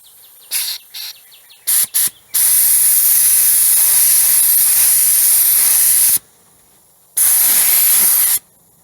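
Aerosol spray paint hisses in short bursts, then in long steady sprays across engine parts under the hood of a 1999 Dodge Ram, loud and close, with pauses between passes.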